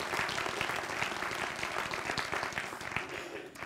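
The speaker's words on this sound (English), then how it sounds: "A round of applause for Rancho Cordova." A convocation audience of college staff applauds for the Rancho Cordova center; dense, continuous clapping at moderate distance, even in level throughout with no voices over it.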